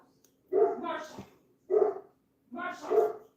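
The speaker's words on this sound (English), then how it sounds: "that's the dog barking outside." Three bursts of barking from a dog outside, the first and last longer and more drawn out, heard fairly clearly and close with pauses of quiet between them.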